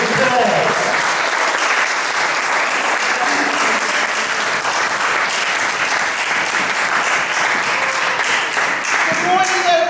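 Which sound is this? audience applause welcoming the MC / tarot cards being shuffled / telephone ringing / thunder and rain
audience applause welcoming the MC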